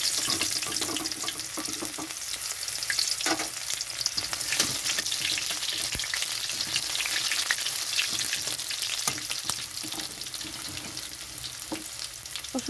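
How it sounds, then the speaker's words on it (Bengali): Garlic fries in hot mustard oil in a wok with a loud, continuous sizzle full of dense crackles and pops, heard close and alone. "রসুনটা একটু ভাজা হয়ে গেছে।"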